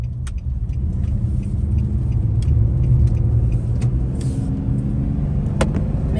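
A car drives along a city street, a steady low engine and road rumble heard from inside the vehicle, with faint clicks and rattles on top and no talking.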